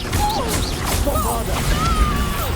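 In Hogwarts Legacy, a Confringo spell bursts with a quick crashing blast and whooshing swells, set against game music with sweeping tones and other combat noises.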